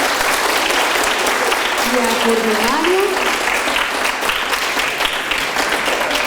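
An audience at a literary lecture applauds in a dense, sustained wash of clapping, while a speaker's voice carries on over it.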